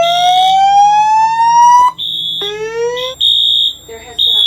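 Notifier NFS2-640 fire alarm system sounding in a building: loud, close rising whoop sweeps alternate with steady high-pitched tone bursts, repeating with short gaps.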